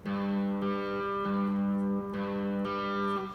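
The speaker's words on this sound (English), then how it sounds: "some kind of fuzzy heavy metal distortion and some reverb on." A heavily distorted electric guitar on the bridge pickup plays sustained fuzzy octave notes with reverb, a few held chords changing in a slow steady rhythm.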